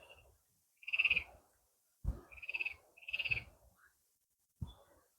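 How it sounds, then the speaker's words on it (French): Frogs croak on an island in short, throaty bursts, several calls in irregular succession, moderately close against an otherwise quiet background. "on entend les grenouilles"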